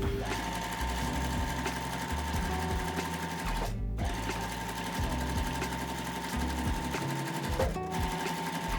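A sewing machine runs steadily while stitching quilt pieces for a feather-pattern quilt, its motor humming loud and close with a rapid needle rhythm, stopping briefly twice before starting again.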